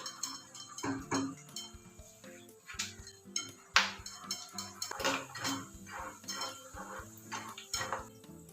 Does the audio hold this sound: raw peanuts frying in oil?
yes